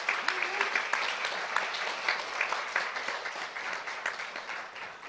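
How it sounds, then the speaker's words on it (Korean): An audience at a 2022 Jeju Forum session applauds the Governor of Maryland. The clapping is broad and continuous, a hall full of hands heard at moderate distance, with a few brief voices underneath. "큰 박수 부탁드리겠습니다"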